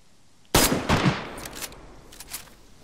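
Gunfire in the video game DayZ: a sharp loud shot burst followed by a couple more shots and echoing tails, then two fainter later reports, with no talking.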